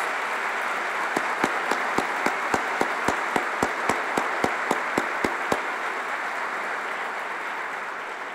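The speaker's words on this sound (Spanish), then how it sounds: "Yo les pido a todos que les demos un aplauso muy fuerte a los niños gritones." A crowd applauds children at a national lottery draw ceremony, with a steady bed of clapping and a run of sharp, evenly spaced claps near the microphone that then fades back into the general applause.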